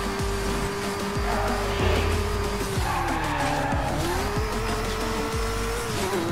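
Car tires screeching in a long continuous skid in the racing game Midnight Club Los Angeles, loud and close over a steady engine drone, no talking.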